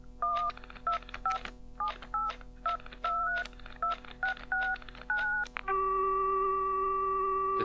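Telephone keypad dialing tones beeping in quick irregular bursts, followed by a steady continuous tone from a dead line in a rundown hotel, with no talking.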